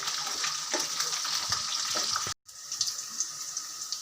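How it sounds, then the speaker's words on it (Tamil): Whole peeled garlic cloves fry in a pan of hot oil for a cough-and-cold kulambu, giving a loud, steady sizzle with a few stirring clatters, a brief gap, then more crackling. "பூண்டு நல்லா ஃப்ரை ஆகணும்."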